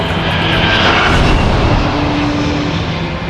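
A fixed-wing airliner roars loud and close at Los Angeles airport during takeoff or landing, a steady broadband engine rush with a faint tonal whine, no speech.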